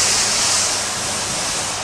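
Water from a shower runs in a steady, dense hiss, loud and close, continuing unbroken with no voices over it.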